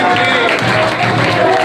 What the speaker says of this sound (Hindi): बेटा मैंने बोला हूटिंग मत करो